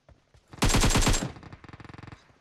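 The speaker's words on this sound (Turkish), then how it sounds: "Burada da güzel bir çatışma var." Gunfire from a PUBG Mobile firefight on the Sanhok map: a loud rapid burst of about eight automatic shots, followed by a quicker, fainter string of distant rounds.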